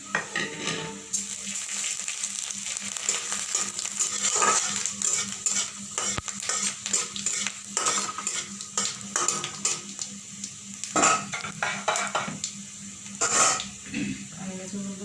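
Panch phoron spices crackle and sizzle in hot oil for a dal made with pumpkin shoots and leaves, with a steady hiss, sharp pops and occasional clinks of a spoon stirring the pan, close and without speech.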